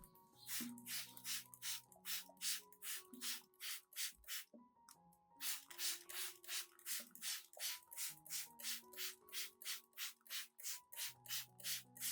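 Rapid, regular bursts of spraying from a hand pump sprayer onto orchid leaves, dozens of short hisses in a steady rhythm with a brief pause midway, close and fairly loud.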